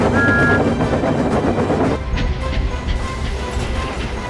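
A steam engine chuffs along with a steady, busy mechanical rumble and rattle, with a brief whistle-like tone early on and the texture shifting to a thinner running sound after about two seconds; no talking.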